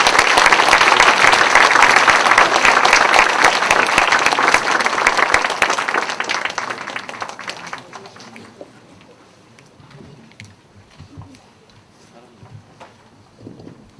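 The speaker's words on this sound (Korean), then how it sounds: "우리 정재승 교수님을 큰 박수로 모실 수 있도록 하겠습니다" Audience applause welcomes a lecturer to a science talk in Iksan: loud, dense clapping fills the room for several seconds, then fades out to scattered claps and quiet room noise.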